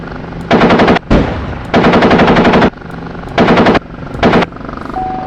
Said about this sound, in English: I can see the BMPs firing as well